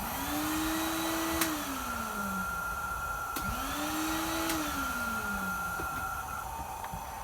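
A Numatic Edward EVR370 vacuum cleaner runs with a steady, loud motor drone and a slowly wavering whine that rises and falls twice, recorded up close.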